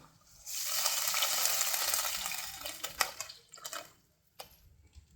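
Water is poured into a hot frying pan, setting off a loud hissing rush that swells and dies away within a few seconds, then gives way to sharp clanks and scrapes of the pan and utensil.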